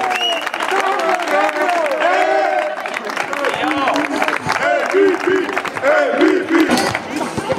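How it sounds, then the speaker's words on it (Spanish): Applause from a crowd at a basketball tournament final, with clapping mixed into loud voices and cheering. "¡Un aplauso para ellos!"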